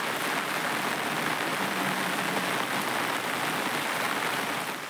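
Heavy monsoon rain pours steadily in Gujarat, a dense, continuous hiss of drops drumming on surfaces that stays loud and unbroken from start to finish, with no voices.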